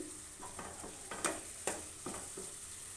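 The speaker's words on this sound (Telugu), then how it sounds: "ఇలా ఫ్రై అయ్యేంత వరకు కలుపుకోవాలి మెరూన్ కలర్ వచ్చేంత వరకు బాగా ఫ్రై అయితేనే కర్రీ చాలా టేస్టీగా ఉంటుంది" Egg curry masala frying in a pan while a spoon stirs it, cooked down until maroon; soft sizzling runs throughout, with a few sharper scrapes and clinks of the spoon against the pan, fairly quiet and close.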